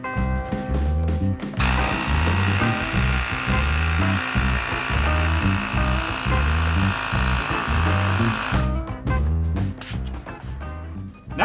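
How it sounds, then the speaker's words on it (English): An electric pump runs steadily for about seven seconds, inflating a bicycle inner tube and tire to 40 psi with a loud, continuous motor drone and buzzy hum, starting and stopping abruptly with no talk over it. "We're gonna pump it up to 40 psi. I'm using an electric pump"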